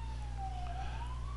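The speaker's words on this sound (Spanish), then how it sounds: "Disculpa el ruido, no sé si se escucha, pero aquí hay una ambulancia cerca." An ambulance siren wails faintly in the distance, its single tone gliding down and then back up, over a low steady background hum.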